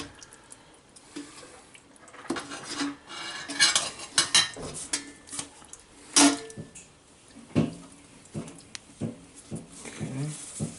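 A spoon stirs spaghetti sauce in a pot with irregular clinks and scrapes against the metal, some louder knocks in between, and a person talking intermittently over it.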